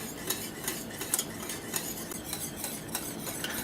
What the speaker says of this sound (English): So let's go ahead and keep stirring this, and we'll take a look here and see how thick this gets